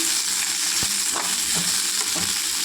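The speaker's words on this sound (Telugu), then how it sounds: "వంకాయ వేగిందండి" Eggplant frying in a pan gives a dense, continuous sizzle with a few louder crackles and scraping stirs, close up and without speech.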